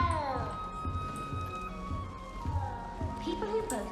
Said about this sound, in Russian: Я слышал мяу.